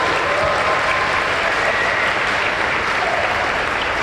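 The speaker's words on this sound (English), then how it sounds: "Can we just have a round of applause for the staff" Fan convention audience at a Q&A session clapping for the event staff: a loud, dense, continuous wash of many hands applauding close by, steady throughout.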